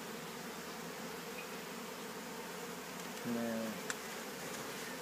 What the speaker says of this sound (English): It's a buzzing around, but in fact they're very well behaved.